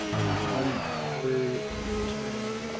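Onboard Formula 1 car engine from a racing video game at the Bahrain circuit, a steady high whining drone with shifting pitch as the car runs through a lap, loud and close with no talking.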